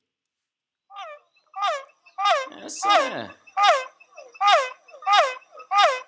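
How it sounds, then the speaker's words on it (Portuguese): Arranca-cachorro frog calling in a repeated series of short, sharp, bark-like notes, each a bright yelp, evenly spaced and close, with a brief voice speaking over the early calls. "É uma rã que tem o som de um cachorro latindo."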